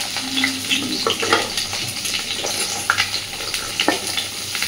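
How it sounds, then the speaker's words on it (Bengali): Pointed gourd and potato fry in a pan with a steady close sizzle, broken by repeated scrapes and clinks from a spatula stirring against the metal. "তো পটলটাকেও একটু ভেজে নেব।"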